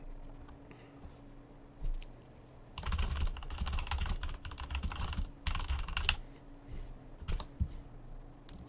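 Fingers typing on a computer keyboard, close and quiet, in irregular bursts of rapid clicks with short pauses between.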